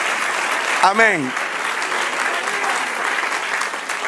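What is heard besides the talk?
applause for the Lord in church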